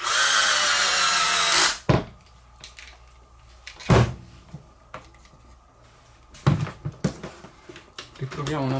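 Cordless screwdriver driving a hard, stubborn screw back into an angle grinder during a repair, heard as several short whirring bursts separated by pauses and handling clicks, with a louder tool noise at the start and speech at times.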